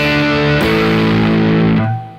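A Stratocaster electric guitar played through a Friedman distortion amp model on a Fractal FM3 rings out thick, sustained distorted chords, shifting twice before fading, loud and with no voices.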